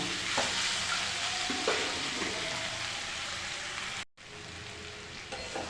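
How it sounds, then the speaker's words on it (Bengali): Spices and chicken pasta sizzle in a pan with a dense, even hiss, a few soft scraping stirs near the start, and a brief dropout before the frying resumes. "ভালো করে মশলা কষিয়ে নেবো"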